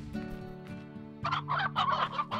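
Chickens in the video game Slime Rancher cluck and squawk in a busy run of short, close calls over a low steady background hum.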